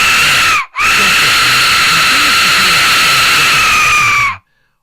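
An Aztec death whistle lets out a loud, piercing shriek, held steadily for several seconds with a brief gap near the start, then cut off abruptly into silence.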